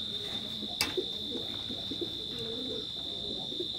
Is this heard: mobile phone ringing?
no